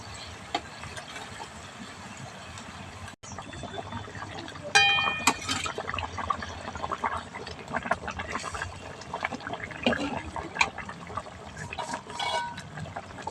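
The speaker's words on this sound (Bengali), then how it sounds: "গ্রেভি ফুটতে শুরু করেছে ভেজে রাখা মাছগুলো দিয়ে দিচ্ছি" Mustard-oil fish curry gravy bubbles in a pan as pieces of fried fish are dropped in, with soft liquid burbling, a few clinks and splashes, and a low background hum.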